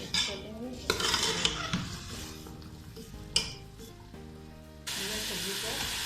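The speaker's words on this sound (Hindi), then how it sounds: "अच्छे से मिक्स कर लेंगे।" A spoon stirs and scrapes chopped turnip in a frying pan, with clanking of metal on the pan and a steady sizzle, close by, while someone talks in the background.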